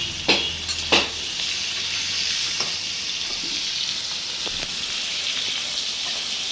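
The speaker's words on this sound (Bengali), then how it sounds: "মাছগুলো খুব বেশি কড়া ফ্রাই করা চলবে না, কিন্তু তুলে নিতে হবে।" Prawns and fish frying in hot oil for Bengali chingri malai curry, a bright, continuous close sizzle with a couple of sharp utensil clinks near the start, no voices.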